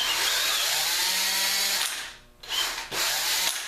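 A single hand drill whirs loudly in a woodworking shop, a steady high motor whine that drops out briefly, then spins up again in two short bursts.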